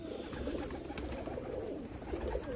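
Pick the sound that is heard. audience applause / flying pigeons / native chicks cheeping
flying pigeons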